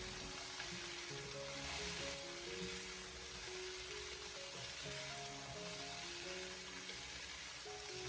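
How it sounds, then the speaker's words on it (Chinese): Pig trotters stir-fried in a wok with oyster sauce and soy sauce give a steady, close sizzle and crackle, with faint tonal hum beneath and no talking. "然后再继续的将它翻炒一小会，把它翻炒均匀， 把酱料给它炒出酱香味。"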